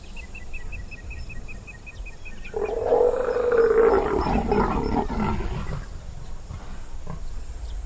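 Two leopards mating in a tree give loud, rasping roars and snarls that rise abruptly over a background of insects and night ambience and last several seconds before fading back to the steady hum.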